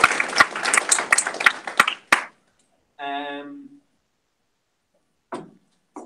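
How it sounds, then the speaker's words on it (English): People at a hackathon results event give participants a round of applause. There are a few seconds of fairly close clapping, then a short voiced sound and a brief later noise with silence between. "really a big round of applause to you guys"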